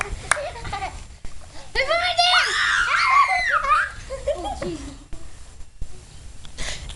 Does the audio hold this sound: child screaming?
yes